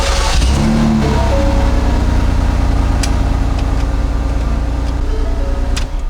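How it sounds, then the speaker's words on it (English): A Ford Escape engine, which has a defective ignition, cranks briefly and catches. It settles into a loud, steady running drone close by, with a couple of faint clicks over the top. "You need to push the key inside of the ignition while you're starting."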